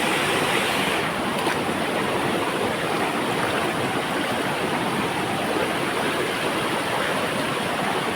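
Water rushes steadily and loudly, a dense continuous roar like a fast stream or small falls, close by with no voices over it.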